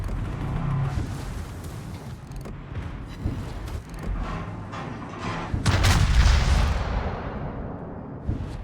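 Bismarck battleship main guns firing repeatedly in World of Warships, a dense run of heavy booms and rumbling blasts over several seconds, the biggest salvo swelling near the end, with no talk.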